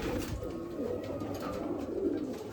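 Several pigeons coo close by in a loft, soft throaty rolling calls overlapping continuously at moderate volume.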